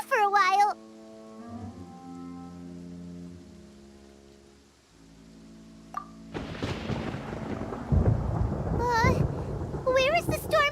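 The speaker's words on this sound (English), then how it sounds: "Paimon hears thunder!" A low rumbling thunderstorm in the Genshin Impact game world, broad dark roar building and sustaining under musical chimes and game voice effects that open and close the stretch.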